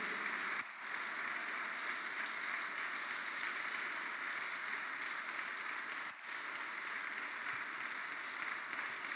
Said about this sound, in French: Et que l'Église reçoive cette parole par de fortes acclamations.